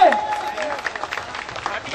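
Crowd applause at a village fair (mela) in Pind Talwan: dense, steady clapping from a sizeable audience that carries on for the full two seconds, with a brief voice at the very start.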